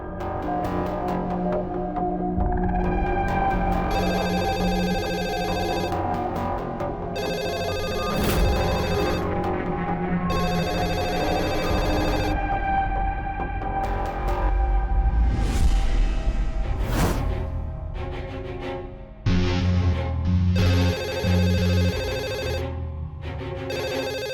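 A telephone rings in a Hindi true-crime drama: a long, loud musical ringtone that repeats in bursts for the whole stretch, with no talking over it.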